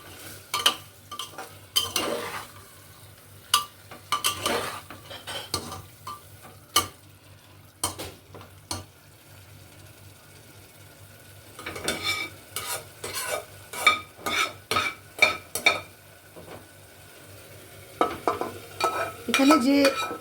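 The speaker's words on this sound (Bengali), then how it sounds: "মাটনটা দিয়ে আমি একটু ভালো করে কষিয়ে নেবো" Repeated scraping of a spatula stirring in a pan, in irregular bursts, over a soft sizzle of mutton frying.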